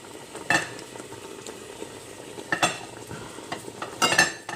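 Peanut paste scraped and stirred into a cooking pot for a peanut sauce with lamb chops, giving a few soft scraping and clinking bursts over a faint sizzling background, with no talking.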